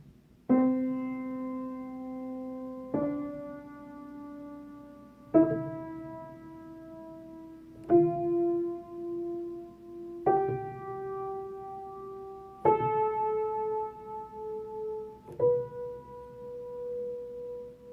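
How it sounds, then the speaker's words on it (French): Middle C struck on piano seven times at a slow, steady pace, each tone ringing and decaying before the next, alone with no voices. "voici le son du Do"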